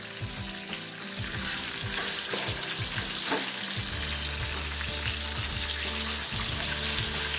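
A pistachio-crusted halibut fillet sears in a hot, smoking pan, with a loud, constant close sizzle and a few clatters as it is handled.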